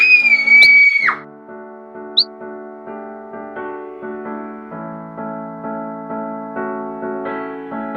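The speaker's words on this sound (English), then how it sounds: "Red Riding Hood screamed." A girl's high-pitched scream in a Little Red Riding Hood story opens the clip, loud and sustained for about a second. A sharp click follows, and a gentle melodic music bed then plays alone.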